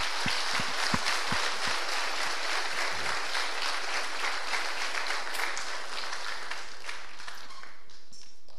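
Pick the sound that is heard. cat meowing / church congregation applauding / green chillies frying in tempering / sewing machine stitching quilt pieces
church congregation applauding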